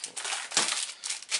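A plastic parcel bag is opened up close, with dense crinkling and crackling in several bursts, a sharper crunch near the middle, and no talking.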